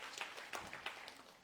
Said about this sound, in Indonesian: tepuk tangan sekali lagi buat Tuhan kita